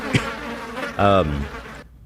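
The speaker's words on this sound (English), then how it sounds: "As soon as I start watching, I'm immediately greeted with hordes of bees." A swarm of bees gives a short, loud, close buzz after a brief click, lasting well under a second before cutting off abruptly into silence.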